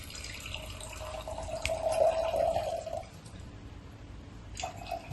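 Water runs steadily from a tap, a continuous splashing flow that swells in the middle and then eases off.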